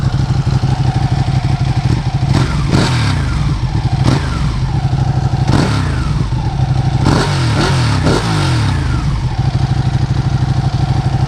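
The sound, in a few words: Ducati Panigale motorcycle engine revving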